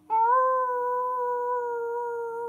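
A person imitates a wolf howl, a clear voiced tone that starts abruptly, rises slightly, then holds long and even for over two seconds, close and alone.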